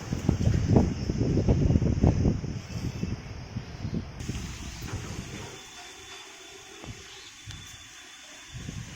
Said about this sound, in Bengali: আর চারপাশে প্রচুর জোরে হাওয়া বইছে